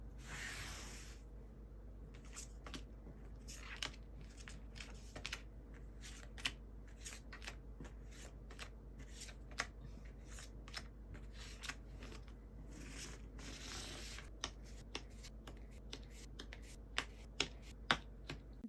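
Tarot cards being spread out and drawn on a table make a string of sharp, crisp snaps and light flicks over a steady low hum, with no one speaking.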